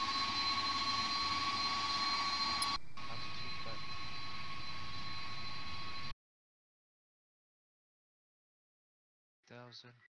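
Douglas DC-10 jet engines roaring at takeoff in the FSX flight simulator game, a loud steady whine and rumble that cuts off abruptly, followed by silence and a brief voice.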